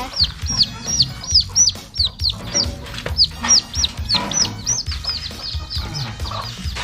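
Wild jungle fowl chicks cheep repeatedly in rapid high peeps, with hens clucking low underneath, a busy close-up flock sound with no talk.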